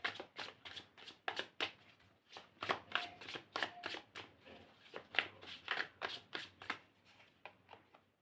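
Tarot cards being shuffled by hand to draw a clarifier card, a quick series of crisp riffling and flicking bursts in an uneven rhythm, close up and quiet, with no talk.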